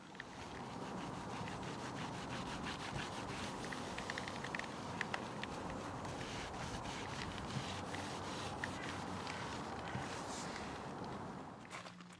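A detailing product being rubbed by hand into a car's paintwork to lift stubborn contaminants, giving a steady, continuous close-up scrubbing and rubbing noise with no pauses and no talking.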